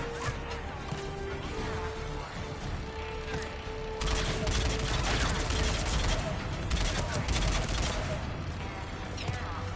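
Sustained weapon fire in Mass Effect Legendary Edition, a dense, continuous barrage of shots and impacts that grows heavier partway through. Battle noise fills the whole stretch, with faint voices mixed underneath.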